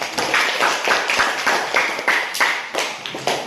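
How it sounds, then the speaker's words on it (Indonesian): A classroom of students claps in rhythmic unison, a series of sharp, evenly spaced hand claps close by, coming in quick bursts with no talking over it. "Kasih tepuk tangan dulu dong."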